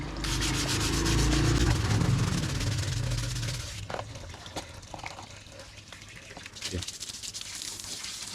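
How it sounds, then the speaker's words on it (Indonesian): Scrubbing and washing the underside of a car battery produces steady, loud rubbing and water noise for about four seconds, then turns into quieter, scattered splashes and knocks. "bagian bawahnya tidak lupa kita cuci juga biar nampak bersih"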